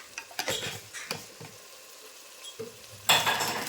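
Soft sizzling and stirring of ingredients frying in a pan for mango churumuri, with a spoon tapping and scraping the pan in scattered knocks and a louder stir toward the end, close and fairly quiet.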